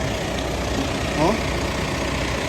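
A Mitsubishi Montero 2.5 liter turbo diesel engine idles steadily at close range, a dense, even rumble, with a brief faint voice over it.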